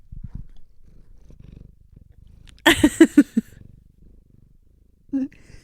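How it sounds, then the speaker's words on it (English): A cat purs right up against the microphone after nosing it, a close rumbling purr that comes in short loud pulses through the middle of the clip and briefly again near the end, with quiet low rustling around it. "Nose booped the microphone and got some purring"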